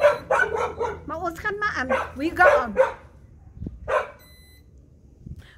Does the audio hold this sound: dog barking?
yes